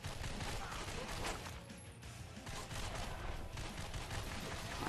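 Continuous gunfire fills the whole stretch in The Darkness, a dense, steady barrage of game shots with no gaps and no clear talk over it.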